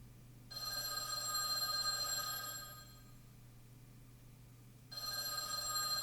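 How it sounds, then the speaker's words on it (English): A telephone rings in the video game Witch on the Holy Night, two bursts of a bright trilling bell separated by a short pause, heard clearly over a low steady hum. "The phone rang."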